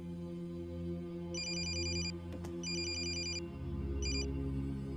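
A telephone rings with an incoming call in three short electronic trilling bursts, clear and fairly close over a steady low background hum, with no one speaking.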